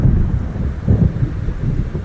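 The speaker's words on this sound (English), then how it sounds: "It seems there's a storm coming." Deep, continuous rumbling thunder from a storm in the video game Alan Wake Remastered, loud and rolling with swells of low-end energy and a windy, rain-like wash underneath.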